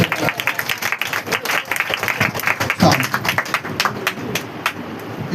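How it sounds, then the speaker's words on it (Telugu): A church congregation claps with both hands at a Sunday service, a dense, steady patter of many palms from a sizeable crowd filling the room, with a voice speaking over the applause. "రెండు చేతులతో చప్పట్లు కొడుతూ దేవునికి స్తోత్రం చెప్తా"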